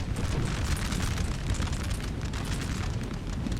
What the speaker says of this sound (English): these buildings will take a few shots before they explode and they're destroyed